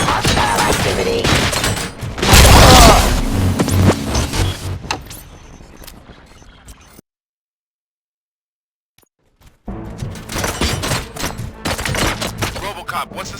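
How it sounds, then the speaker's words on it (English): Rapid bursts of gunfire with loud thumps in the video game RoboCop 3 fade into a brief silence, then another round of shooting and impacts picks up. "Gunshots? What's going on?"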